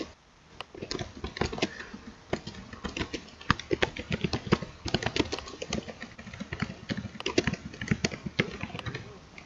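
Rapid clicking and typing on a computer keyboard during a livestream test, a dense run of sharp, close taps and clicks in irregular bursts that continue steadily for several seconds with no talking.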